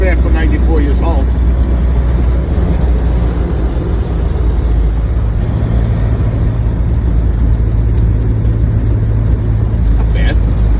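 A 94-year-old Ford Model A car cruising at roughly 40 mph, with a steady, loud engine and road rumble running throughout and occasional voices over the drone.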